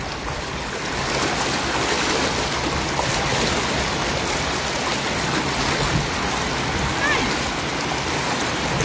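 Strong river current rushes steadily and loudly through a net-fishing spot, a dense broadband roar of churning water that holds level the whole time with no pauses; no talk is heard.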